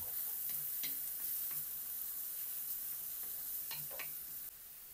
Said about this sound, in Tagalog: Isusute na natin yung ating uh, garlic and onion. hanggang maging translucent yung ating onion.